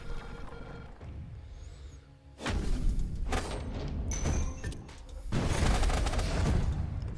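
Heavy crossbow bolts firing in the fantasy strategy game The Last Spell, loud booming impacts in several overlapping bursts over a constant rumbling battle backdrop.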